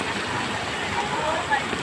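Heavy rain beside a flooding river roars as a dense, loud, continuous wash of hiss, close and unbroken, with a voice briefly audible beneath it.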